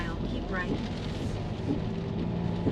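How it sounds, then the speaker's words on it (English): Heavy rain pelts a car climbing a pitch-black hill road in Tuscany on a night of strong wind gusts, a steady, dense roar of drumming water with no break. "the rain was pelting up against the car."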